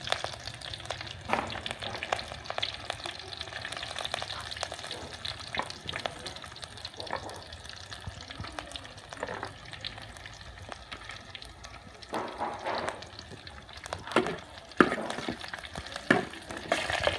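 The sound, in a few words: stir-frying chicken with holy basil in a pan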